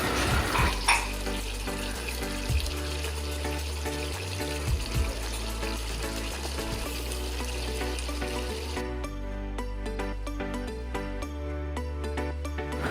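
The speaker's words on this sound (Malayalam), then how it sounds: "ഇപ്പോൾ ചിക്കൻ നല്ല വേവിൽ ഫ്രൈ ആയി കിട്ടിയിട്ടുണ്ട്." Chicken for mandi fries in oil in a covered pan with a steady, close sizzling crackle. Irregular pops and faint clinks sound throughout, and the sizzle grows lighter and more spattery toward the end.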